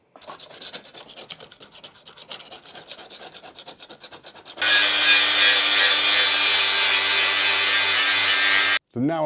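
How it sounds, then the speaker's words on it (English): A hand file rasps across a steel lawn mower blade in quick, even strokes, followed by a sudden loud, continuous grinding burst that holds steady before cutting off abruptly. "also sharpened the blade"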